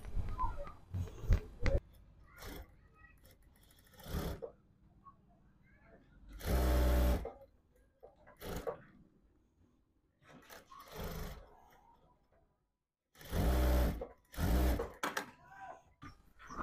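A sewing machine stitches a lining blouse in short separate bursts of close, rapid whirring, with quiet gaps and light handling noises between runs.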